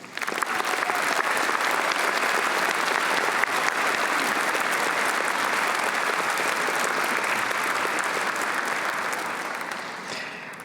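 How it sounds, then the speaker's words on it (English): Steady, full applause from a large audience at a Swinburne university graduation ceremony, a dense wash of many hands clapping for about ten seconds that fades slightly at the end. "Please join me in a round of applause for Ms. Beverly O'Connor, our esteemed name reader."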